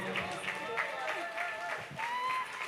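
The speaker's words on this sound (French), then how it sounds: "On peut les applaudir bien fort." Audience applause at a Relay for Life candle ceremony in Rixensart, a steady wash of clapping from a crowd that runs through the whole stretch, with voices mixed in underneath.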